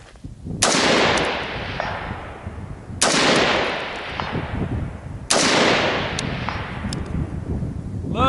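A rifle with a 13.7-inch barrel fires three loud, sharp shots a few seconds apart on an outdoor shooting course in high wind, each blast ringing out with a long rolling echo.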